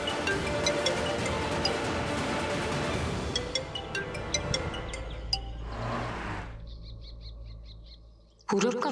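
A mobile phone rings during a scene in a Hindi TV drama. A short electronic trilling pattern repeats near the end, after a stretch of background music.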